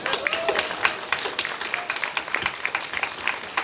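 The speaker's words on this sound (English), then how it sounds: "I think it deserves a round of applause" Audience applause at a Cape Town comic con panel, a sustained, moderately distant crackle of many hands clapping, with brief whoops and murmurs from the crowd underneath.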